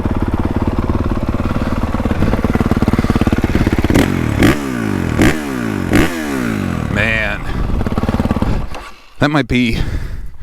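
A 2025 Honda CRF450R Works Edition dirt bike's 450 engine runs loud and close, holding a steady drone before a series of sharp revs and gear changes, then settling again.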